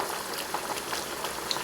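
Chicken simmers in a yogurt masala in a pot, giving a steady, close bubbling and sizzling hiss with small pops throughout and no voices.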